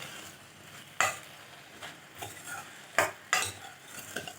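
Salt and coriander are stirred into vegetables in a pan: repeated scraping and clinking spoon strokes over a light sizzle, close and uneven in rhythm, with no talk.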